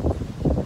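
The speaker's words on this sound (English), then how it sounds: "It's really windy." Outdoors, gusty wind buffets the microphone in low rumbling surges, two clear bursts within under a second.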